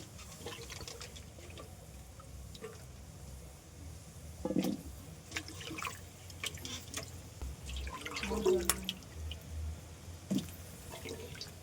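Raw mango chutney simmers in water in a pot, giving a soft steady bubbling and low hiss with scattered drips and light plops, close and fairly quiet.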